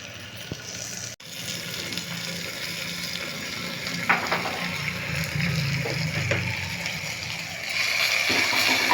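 Vegetable pieces sizzle in a pan while a curry of chickpeas (kommu senagalu) is cooked, a steady broadband frying hiss with occasional stirring scrapes and clinks, loud and close, no voices.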